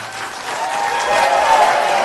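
Audience clapping at a county Board of Supervisors meeting, dense sustained applause from a crowd filling the room, loud and steady, swelling slightly toward the end.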